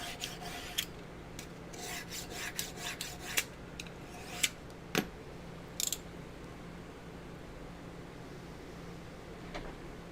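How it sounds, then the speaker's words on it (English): A Crenshaw sharpener rasps against an edge in a series of brief, sharp scraping strokes, irregular and fairly close, over a quiet steady background hum. "This is the Crenshaw sharpener."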